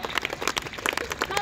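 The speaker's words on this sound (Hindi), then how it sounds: "आपकी तालियां थोड़ी कमजोर, एक बार उठाइए दोनों हाथ।" Audience at an outdoor kavi sammelan poetry recital in Dhambola claps in a quick, dense patter of moderate loudness, with a voice partly audible beneath the clapping.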